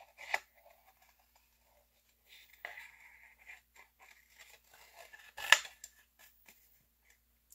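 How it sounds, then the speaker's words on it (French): Scissors snip through card, cutting around a drawing colored with alcohol markers. The cuts come as a few soft, sparse snips with quiet rustling between them, close and alone. "je découpe autour"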